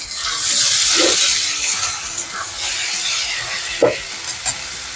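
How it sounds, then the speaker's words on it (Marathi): Potatoes being stirred into lightly browned onions in a pan for instant kanda mirchi, a steady sizzle broken by a couple of sharp scraping strokes, close and fairly loud with no voices. "इथं आपण आता बटाटे टाकून घेणार आहोत आणि मिक्स करून घ्यायचे"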